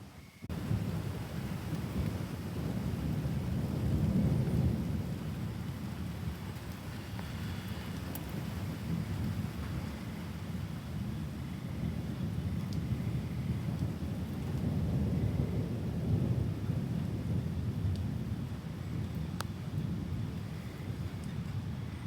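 Thunderstorm in Northern Van Buren County under a severe weather warning: steady rain with long, low rolling thunder swelling and fading, and no voices.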